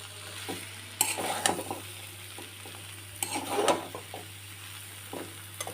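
Potatoes with poppy seeds fry in a pan under a soft, constant sizzle, and a spatula stirs them in a few louder bursts of scraping and tapping, close by and with no talking.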